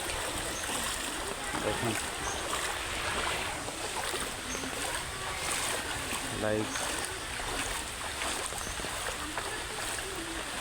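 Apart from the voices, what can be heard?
flood water flowing and splashing after heavy rain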